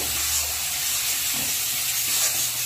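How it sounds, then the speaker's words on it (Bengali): A masala spice paste cooks covered in a pan for a Bengali bata fish curry, giving a steady, soft sizzle and steam hiss that runs unbroken at moderate level with no voices. "মশলাটা এবার 2-4 মিনিট একটু ঢেকে ঢেকে কষাবো।"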